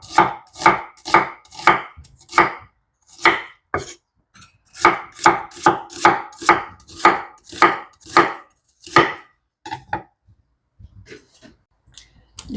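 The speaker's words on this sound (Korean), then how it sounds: "양파를 한 개를 더 썰어줍니다" A knife chopping onion on a cutting board, close and crisp, in quick even runs of sharp thuds that pause briefly and resume, then taper off into a few scattered lighter taps.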